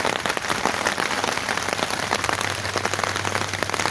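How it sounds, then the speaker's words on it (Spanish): Rain falls steadily at an outdoor bushcraft camp, a dense close patter of drops hitting surfaces that continues evenly with no speech. "No sé si se llega a ver cómo está lloviendo, pero se debe escuchar por lo menos"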